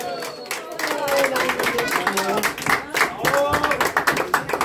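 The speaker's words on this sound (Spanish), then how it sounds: "Que se escuche fuerte ese aplauso." Clapping at a birthday celebration for John and César, with a juvenile mariachi band performing, a crowd applauding steadily under overlapping voices and some music-like tones, moderately loud and close.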